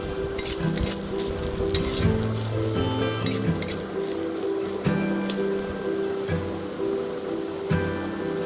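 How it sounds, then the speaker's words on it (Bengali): Chopped onion sizzles in hot oil for homemade egg chow mein, a continuous close frying hiss with occasional soft stirring sounds and a faint background hum. "দিয়ে দিয়েছি তেল, দিয়ে দিচ্ছি পেঁয়াজ কুচি। পেঁয়াজটা একটু হালকা করে ভেজে নেব।"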